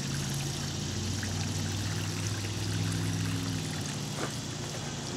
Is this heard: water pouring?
yes